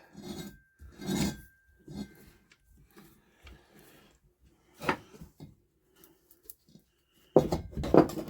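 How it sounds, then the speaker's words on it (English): Metal scraping and rasping comes from the sump of a Villiers Mk12 engine being cleaned out, heard in short, close bursts separated by pauses. A louder, rougher scrape follows near the end. "We can clean that sump out."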